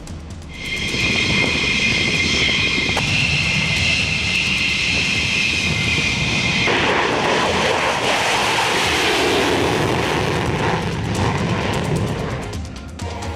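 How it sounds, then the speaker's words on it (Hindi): Israeli fighter jets taking off and flying during strikes on Iran, a loud, sustained jet roar that fills the whole stretch without pause, close and powerful, easing slightly only at the very end. "सौ फाइटर जेट ने भरी उड़ान।"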